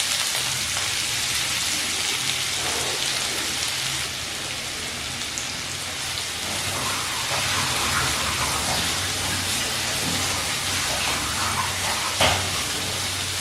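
Chopped onions, two medium ones, sizzle steadily in hot oil over a medium flame, a close, dense crackling hiss that holds evenly throughout with no voices.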